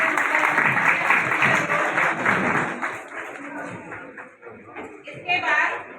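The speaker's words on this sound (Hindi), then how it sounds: "तालियां गूंजती रहनी चाहिए।" Audience applause for a student honoured for a high district rank in a high school exam, at a school prize ceremony; a broad, steady wash of clapping that fills the clip, easing slightly near the end, with scattered voices mixed in.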